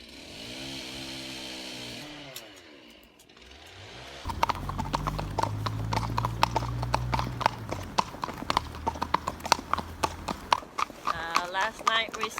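Steady clip-clop of saddled trekking horses' hooves on a hard surface in Ireland, rhythmic and close, with a low engine-like drone early on and some talk in the background.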